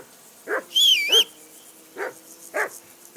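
A dog barks in the medieval-world Kingdom Come: Deliverance 2 video game, with five sharp, mid-loud barks spaced irregularly and a short whining yelp among them, heard alone.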